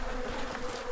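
A soft, steady insect buzz drones close by for a moment, with no voices.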